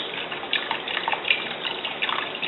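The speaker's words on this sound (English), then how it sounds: "We're going to also put in the reserve liquid from the can of tomatoes and our clam juice, 8 ounces of clam juice." Reserved canned tomato liquid and about eight ounces of clam juice pour into a pot for cioppino, a steady close splashing trickle with small gushes throughout.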